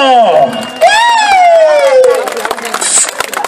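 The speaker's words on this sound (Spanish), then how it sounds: "¡Fuerte el aplauso!" A live audience at a norteño band show cheers and whistles loudly after an announcer's call. Voices ring over a dense crowd roar that swells, then breaks into scattered shouts.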